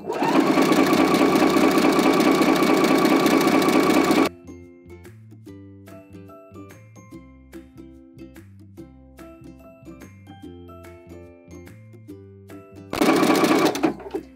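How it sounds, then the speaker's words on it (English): A sewing machine backstitches a bikini top cup. It gives a loud, fast whirring rattle for about four seconds, then goes quiet while light plucked background music plays, then makes a second short burst of stitching at the end. "I'm gonna stop at my other pin and backstitch and cut."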